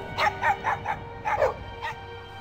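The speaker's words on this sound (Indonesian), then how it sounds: "terdengar lolongan anjing bersahutan" Dogs calling back and forth in a tense night scene, a series of short, clear barking yelps in two quick bursts, fairly close and heard alone.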